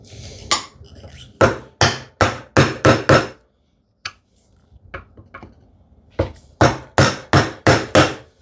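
Sharp, loud mallet blows strike a hand chisel cutting into wood during a shoe tidy build, landing in quick bursts of four or five strikes separated by brief pauses and a few lighter taps.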